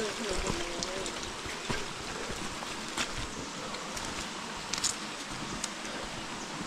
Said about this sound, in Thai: นี่เสียงน้ำลำธาร